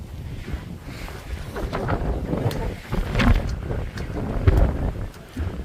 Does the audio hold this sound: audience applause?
no